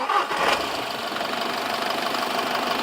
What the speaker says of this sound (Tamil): இப்போ இந்த இன்ஜினை ஸ்டார்ட் பண்ணி பார்க்கலாம்